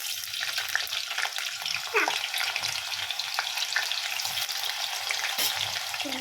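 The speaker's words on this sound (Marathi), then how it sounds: "तेल गरम झाले आता आपण बाकीचे फ्रेंच फ्राईज फ्राय करून घेऊया" French fries frying in hot oil give a steady, dense sizzle that crackles on throughout, close and fairly loud, with no talking.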